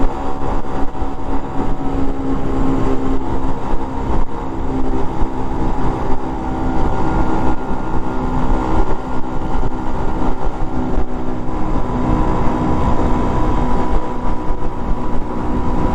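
Small Honda CT110 motorcycles ridden in a group along an open road, engines labouring hard into a headwind; a steady, loud droning hum with constant wind rush runs unbroken throughout, no talk.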